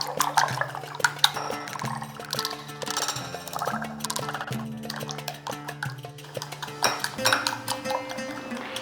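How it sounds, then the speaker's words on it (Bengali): An egg mixture with chopped onion, coriander and green chilli is stirred in a bowl, giving repeated clinks and scrapes of utensil against the dish, with faint background tones throughout. "এরপরে পুরো জিনিসটাকে বেশ ভালো করে মিশিয়ে নিচ্ছি"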